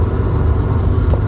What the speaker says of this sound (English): I'm just gonna run it out here hard, third gear, try to blow it out.